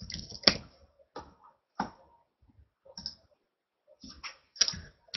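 Typing on a computer keyboard while signing into a demo site: sparse, fairly close clicks and taps in small uneven clusters separated by silent pauses.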